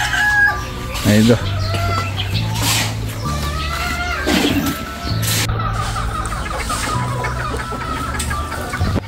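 Gamefowl broodcocks and hens in square breeder pens, roosters crowing repeatedly over steady clucking from many birds nearby, with someone talking briefly.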